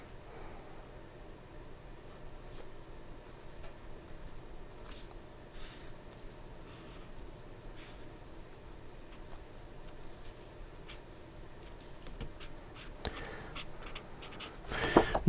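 Crude notes written by hand with a pen, a steady close scratching of strokes on paper that continues throughout, with a few sharper scrapes and some breathing near the end.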